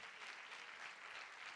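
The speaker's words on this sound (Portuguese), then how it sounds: "Dê uma salva de palmas a Jesus." A church congregation applauds for Jesus during a Brazilian Portuguese worship service, a dense, even wash of many hands clapping heard at a moderate distance, with no voices on top.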